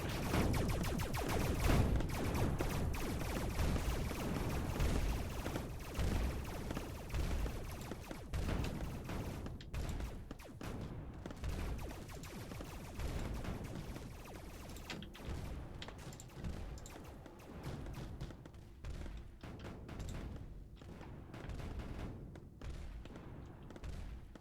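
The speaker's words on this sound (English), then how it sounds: "Oh, they're shooting at me." Continuous dense gunfire and booming impacts from units shooting in the Mindustry Erekir strategy game, a loud steady barrage of rapid shots and thuds filling the whole stretch, with no voices.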